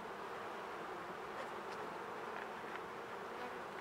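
Honeybees buzz densely around a hive being restarted, a constant loud swarm drone with no pauses and no talking.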